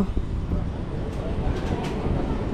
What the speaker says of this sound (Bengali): শারদিয়া স্টেশন থেকে আমাদের ট্রেন ছেড়ে দিল